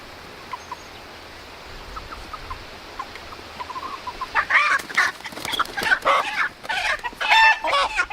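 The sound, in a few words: Splash Maran chickens clucking while being caught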